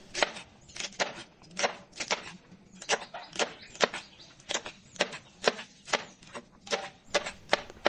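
Taro leaves being chopped with a knife on a board, about twenty crisp, evenly spaced close-up cuts in a steady rhythm, with no talking.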